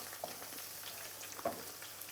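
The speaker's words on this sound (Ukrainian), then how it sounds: "Ну, ось цибульку маємо смажену." Chopped onion fries in a pan during preparation of a Transcarpathian Christmas soup, giving a faint, steady sizzle with a couple of light clicks from stirring.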